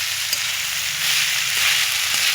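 Soaked sago and vegetables are stirred in a hot pan, giving a continuous bright sizzle with faint scraping of the spoon and a few soft knocks, close and steady.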